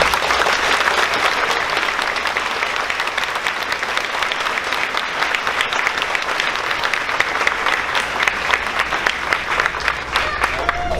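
Sustained applause from an audience at a sixth-grade graduation ceremony, a dense, even roar of many hands clapping that carries on steadily for about ten seconds.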